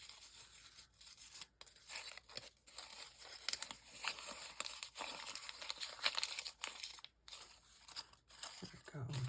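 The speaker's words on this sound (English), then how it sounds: "Maybe just take and crumple up this whole page." Paper music page crumpled by hand for a craft kit: continuous close crinkling and crunching that rustles in uneven bursts for several seconds.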